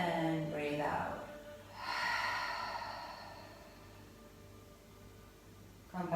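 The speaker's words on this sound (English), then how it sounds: "and breathe out." Deep, slow breaths out during a gentle slow-flow yoga relaxation session: two long, soft, airy exhales, the first fading after about a second and the second longer and steadier, heard alone and close.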